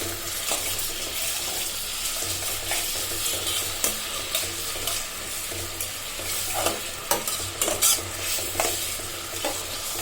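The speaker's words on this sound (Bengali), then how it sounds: "এগুলো আগে ভালোভাবে ভাজা হয়ে যাক।" Shrimp with chopped onion, garlic and green chili sizzle in a hot pan while a spoon scrapes and stirs, with occasional clinks and a running-water background, and no voices.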